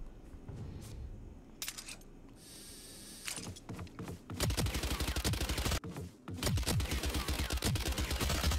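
Gunshots in Valorant on console, starting with sparse single shots and clicks over quieter game sound, then loud rapid automatic bursts filling the second half with a short break between them.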